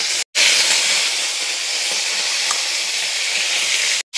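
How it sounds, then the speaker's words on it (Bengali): Crabs dropped one by one into hot oil in a wok set up a loud, continuous hissing sizzle that holds steady throughout, with a short break near the start and the end. "এবার আমি এক এক করে গরম তেলে কাঁকড়া ছেড়ে দেবো।"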